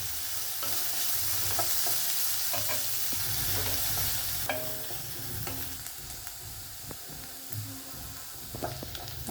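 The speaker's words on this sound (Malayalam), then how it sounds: "ഉള്ളി നല്ലവണ്ണം ഒരു ഗോൾഡൻ ബ്രൗൺ ആവുന്നിടം വരെ വഴറ്റുക." Onions sautéing in a pan, cooked until golden brown, for an egg masala curry: a steady close sizzle with intermittent scraping stir strokes throughout, no voices.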